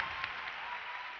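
An audience at the Miss Côte d'Ivoire 2011 beauty pageant claps in a steady wash of applause, moderately distant and even, without pauses.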